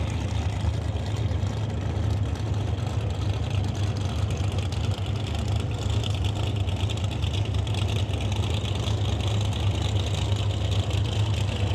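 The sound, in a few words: drag racing cars after burnouts on the start line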